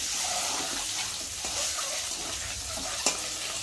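Eggs fry in a pan for an egg curry, giving a steady, close hiss and crackle of hot oil throughout, with one brief sharper clink near the end.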